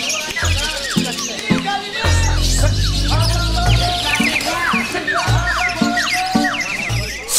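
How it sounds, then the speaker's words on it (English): Caged songbirds sing at a bird competition in Java, with dense overlapping chirps and trills from many birds under music and crowd noise. "Strict judges evaluate the birds that sing in their suspended cages"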